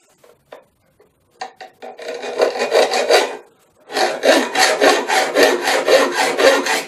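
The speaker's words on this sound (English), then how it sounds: "Again, sawing downwards so that the stool is helping to support the bracket." Hand sawing through a metal bracket supported on a stool in quick rasping back-and-forth strokes, a few scattered knocks first, then two runs of steady rhythmic cutting.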